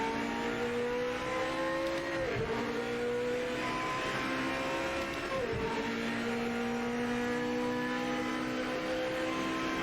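An old GT500 race car in the Project Motor Racing video game drives at speed, its engine droning steadily with two quick downshifts and revs, no talking over it.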